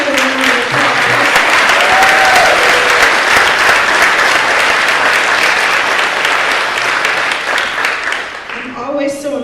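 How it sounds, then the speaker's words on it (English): A crowd at a public speaking contest awards ceremony applauds steadily for the students, a dense, loud wash of clapping that holds for about nine seconds before thinning out as a voice begins to speak. "Give these amazing students another round of applause."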